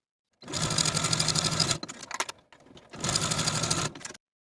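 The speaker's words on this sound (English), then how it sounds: "Sew your shoulder seams and your side seams with a 5/8 inch seam allowance" Sewing machine stitching shoulder and side seams on a lace dress, two close bursts of rapid even needle chatter separated by a brief pause with light handling noises.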